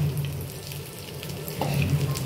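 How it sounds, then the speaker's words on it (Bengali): A gram-flour-battered potato chop fries in oil with a steady bubbling sizzle heard up close, a constant crackling hiss over a low hum. "এবার ভেজে নিচ্ছি। এবার আমি লাল লাল করে ভাজতে থাকছি।"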